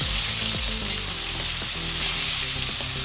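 A large pond-raised black carp fries in oil with a loud, dense, continuous sizzle. Steady tonal sounds run underneath the frying, and no one speaks.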